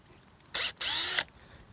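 A power drill boring into a tree trunk gives two short, loud whining bursts separated by a brief pause, with quiet surroundings before and after.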